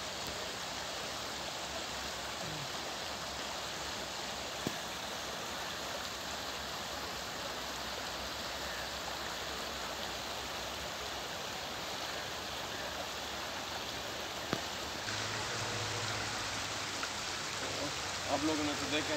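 A steady rush of flowing water fills the scene continuously, a broad even hiss, with a faint low voice appearing toward the end.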